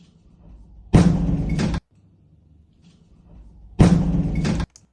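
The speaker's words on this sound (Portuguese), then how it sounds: "Impressionante a onda de choque, né, chegando aqui da explosão que aconteceu ali nesse depósito de munição" An ammunition depot explodes in the war in Ukraine, with two heavy, booming blasts a few seconds apart. Each burst of rumbling shock-wave noise lasts under a second, then cuts off abruptly.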